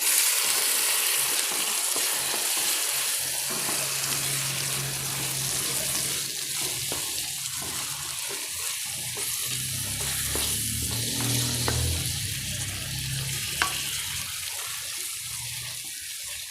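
Tomatoes sizzle steadily in a pan with onions for Tamil tomato rice and tomato gravy, a continuous wet frying hiss with occasional stirring scrapes throughout, no voices.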